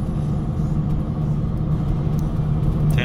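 A Volkswagen Touareg 2.5 TDI R5 diesel cruises along a road at night, its engine and tyres making a loud, steady low rumble with a faint hum and no talk.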